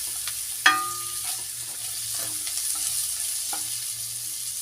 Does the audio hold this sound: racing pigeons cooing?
no